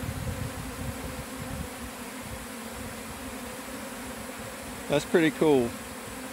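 A honey bee swarm entering a hive: a dense, steady buzzing hum from many bees continues throughout, and a person speaks briefly near the end.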